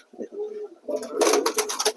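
A pigeon gives a soft, low coo nearby in a loft, followed by a person speaking over faint fluttering and bird sounds.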